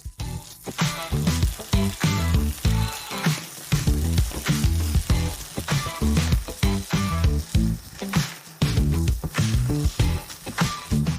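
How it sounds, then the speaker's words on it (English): Pieces of duck liver fry in a hot skillet with loud, dense crackling and frequent sharp pops and clatter throughout, close and continuous. "We send the liver to fry carefully, just not one on top of another."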